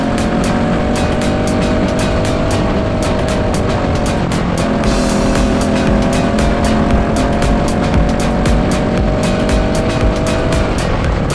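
Racing go-karts scream past at close range on a circuit, high-revving engines droning loudly and continuously with rising and falling pitch as they battle through corners, one kart sliding sideways.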